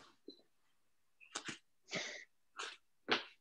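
A person sneezes, a few sharp close bursts of breath in quick succession following a faint intake, in an otherwise quiet room.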